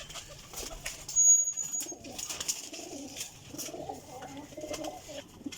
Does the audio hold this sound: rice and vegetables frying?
no